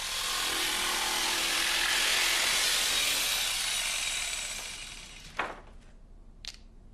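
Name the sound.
jigsaw cutting laminate board along lines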